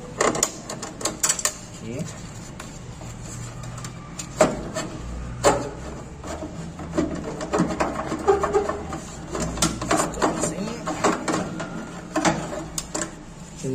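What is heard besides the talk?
Phillips screwdriver removing screws from air conditioner condenser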